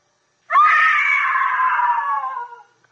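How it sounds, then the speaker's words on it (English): A woman lets out one long, loud, sustained scream in a radio drama, heard alone and fading at the end. "A woman screamed."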